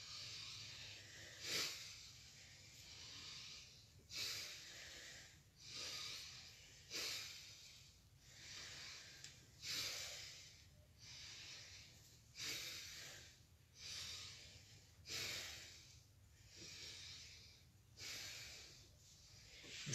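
Slow rhythmic breathing during a gentle exercise routine, about eight soft inhale-exhale cycles, airy and hissy, close but faint with nothing else heard.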